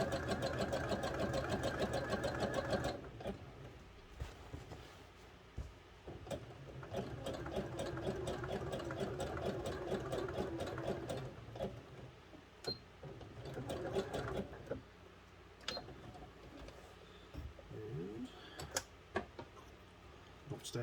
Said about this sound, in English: These seams, you can top stitch them or you can do another stitch along the side.